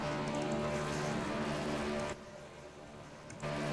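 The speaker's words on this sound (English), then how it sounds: "they're obviously doing twin burnouts here on the front stretch" Two racing trucks doing twin burnouts on the front stretch at Homestead in a racing video game, a steady loud engine roar with tire noise that dips briefly partway through, then returns.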